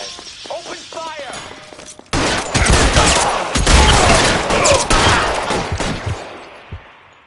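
Video game gunfire erupts in L.A. Noire, with a loud sustained fusillade of shots, thuds and shattering debris following a brief stretch of speech at the start.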